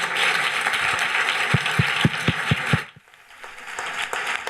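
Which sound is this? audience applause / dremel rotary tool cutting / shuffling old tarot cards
audience applause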